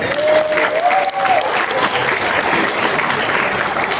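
Audience applause during a Maulid religious gathering at a mosque, a loud continuous wash of clapping from a large crowd, with a brief voice at the start.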